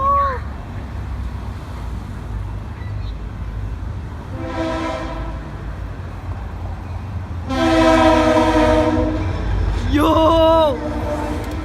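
A freight train passes in Encinitas, sounding its horn in several loud sustained blasts over a low rumbling roll, while excited voices shout nearby.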